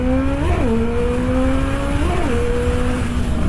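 A motorcycle engine holds a steady drone, with two quick pitch rises and drops a couple of seconds apart as gears are shifted while the clutch is held, close and loud throughout.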